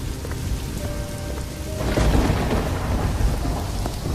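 Heavy night rain hisses steadily while a deep roll of thunder swells in partway through and rumbles on under the downpour, with no voices present.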